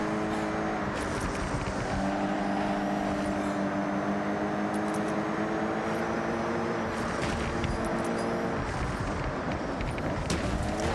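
A Toyota GR GT in the racing game Forza Horizon 6 drones at a steady, sustained engine pitch, shifting up once, with other race cars faintly audible around it.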